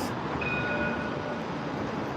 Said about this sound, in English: Our iconic trams.